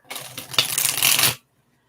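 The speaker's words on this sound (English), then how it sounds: "One more shuffle." Tarot cards riffled in one quick shuffle, a dense papery flutter that builds over about a second and stops sharply, close and fairly loud with no talking.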